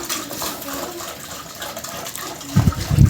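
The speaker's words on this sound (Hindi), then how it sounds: "पानी डाल रहा है ये घड़े में" Water is poured into a clay pot (ghada) on a building site, a continuous splashing rush with heavier, louder gushes toward the end.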